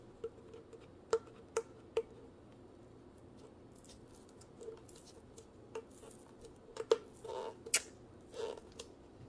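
Faint crackling and sharp ticking clicks as adhesive tape is peeled off a diamond painting kit package, scattered irregular snaps in a quiet room.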